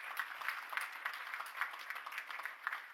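A seminar audience on aerospace and defence investment gives a round of applause, with steady, dense clapping from many hands that sounds moderately distant and fairly faint and runs through the whole stretch.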